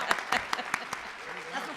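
A small audience at a legislative forum claps in a short, sparse burst, about six distinct, fairly faint claps spread across under two seconds rather than a full ovation.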